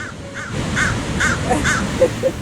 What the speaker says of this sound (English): Crows must be a lot smarter than gulls